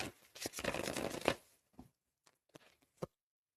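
Tarot cards are shuffled in a quick riffling burst, followed by a few soft, separate taps and flicks of cards being handled.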